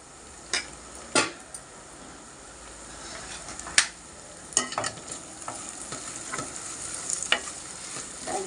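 Brinjal fry with sesame powder and chilli powder is stirred in a pan over a steady sizzle, with scattered sharp scrapes and clinks of the spoon against the pan at irregular intervals.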